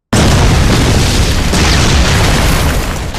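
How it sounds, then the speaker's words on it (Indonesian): A bomb goes off with a loud, sustained boom that fills the whole clip, a dense roaring blast that starts abruptly and holds steady, close and powerful, before easing slightly at the end. "Bom itu langsung meledak, menghancurkan seluruh tubuh Yoshiaki"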